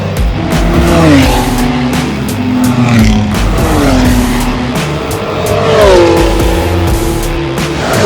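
Race cars at full speed around The Bend circuit during an open pit lane track day, engines droning and rising and falling in pitch as they pass, with tyres squealing through corners; loud and continuous, with no talk.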